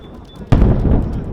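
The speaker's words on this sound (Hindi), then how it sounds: "धमाके की आवाज आपने सुनी।" Sudden loud explosion from an Israeli strike on a Hezbollah headquarters building, a sharp blast that gives way to a heavy, rumbling roar that continues after a quieter lead-in.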